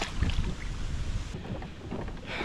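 Wind buffeting a microphone on a fishing kayak out on the water, a loud continuous rumbling roar with gusty swells and water sloshing beneath, no voices present.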